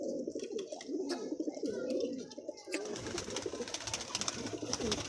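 Pigeons coo steadily at close range in a loft kept by a Sargodha pigeon fancier, their low throaty calls repeating in overlapping rounds throughout, with faint chirps and brief indistinct talk in the background.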